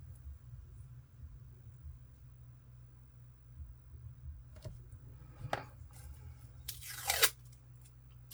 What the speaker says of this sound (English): I will have to trim off some paper at any rate